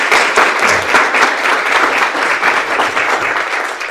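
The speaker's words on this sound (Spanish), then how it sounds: "recibamos con un fuerte aplauso al doctor Eric Castillo" Audience applause welcoming Dr. Eric Castillo to the stage, a steady, dense clapping from a full room, loud and close, sustained throughout without speech.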